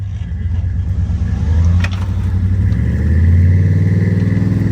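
A Chevrolet Suburban stuck in snow during a recovery, its engine given only a light touch of throttle: a steady low rumble that swells gently and settles, close and fairly loud, with no voices.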